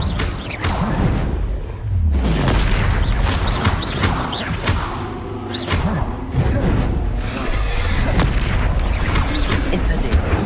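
Incendio fire spells blasting during combat in Hogwarts Legacy: dense, loud booms and whooshing bursts over a constant rumbling game soundtrack, with crashing impacts and mechanical clanks throughout and some in-game voices mixed in.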